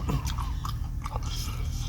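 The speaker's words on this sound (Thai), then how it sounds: "หมึกกรุบกรุบ" Close, wet chewing of crunchy squid, crisp crunching bites in a quick, uneven rhythm, no talking.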